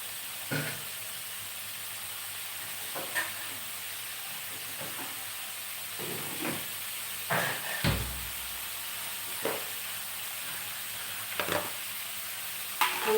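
Cauliflower curry fries in a pan with a steady, faint sizzle. Occasional stirring scrapes and clinks of a utensil against the pan break through at intervals.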